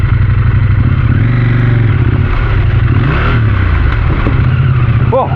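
A loud motorcycle engine revs close up with its pitch sweeping up and down through the gears, then sags and rises unevenly around a missed gear shift.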